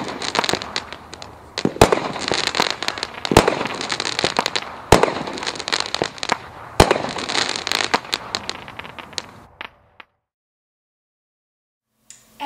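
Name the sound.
Brothers SEAL Team 6 firework cake shots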